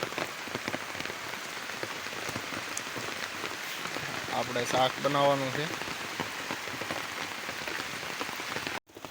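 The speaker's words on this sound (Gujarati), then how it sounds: "વરસાદ પડે છે ફૂલે ફૂલ જોઈ શકો છો" Heavy rain falls outdoors with a dense, continuous hiss and patter on surfaces, near and steady throughout. A person speaks briefly partway through.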